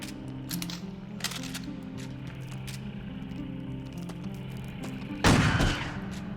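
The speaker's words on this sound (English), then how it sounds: "Shotgun in the face." One loud shotgun blast near the end in the horror game Crow Country, sharp and close, after a stretch of quiet droning ambience with faint clicks.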